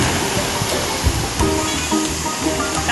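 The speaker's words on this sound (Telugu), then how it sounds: "పెద్ద అలలో ఉంది బీచ్" Big ocean waves break on the beach at Kanyakumari, filling the air with a constant rushing roar and soft thuds of surf, with no clear voices above the wash.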